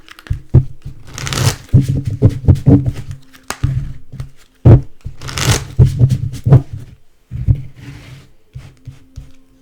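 Archangel Power tarot cards are shuffled in rapid bursts of riffling and soft slaps, close and fairly loud, with brief pauses between rounds and no talking.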